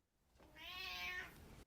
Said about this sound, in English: the kitty cat has spoken